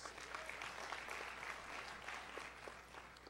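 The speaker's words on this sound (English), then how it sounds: "Give yourselves one more round of applause." Sustained audience applause at an academic convocation, a dense, steady wash of many hands clapping at moderate distance throughout, with no talk over it.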